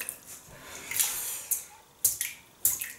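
Water splashes onto a synthetic shaving brush in short bursts, a few close, quiet gushes and squishes with pauses between them.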